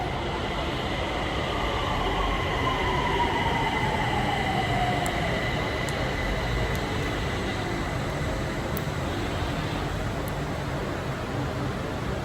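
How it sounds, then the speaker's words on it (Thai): An electric train arriving at a station rumbles steadily with a broad roar, and a falling whine sweeps down as it slows, punctuated by faint periodic clicks. "ขณะนี้รถไฟฟ้ากำลัง กำลังมาหอดสถานี"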